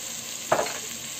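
Turmeric and paprika frying in a pot for lamb harira soup, with one brief stir and a soft scrape over a faint continuous sizzle, close by and with no voices.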